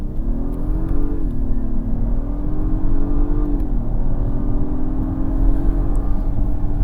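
An Acura MDX Type S engine hums under steady acceleration inside the cabin, a smooth, moderately loud drone that rises in pitch, dips briefly and climbs again.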